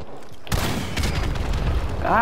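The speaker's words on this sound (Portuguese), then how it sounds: "Tá mó barulho de tiro, barulheira do cacete de tiro aqui, mano." Loud booming blasts and gunfire rumble through a dense, continuous battle din, with a brief voice near the end, in the video game Call of Duty: Modern Warfare Remastered.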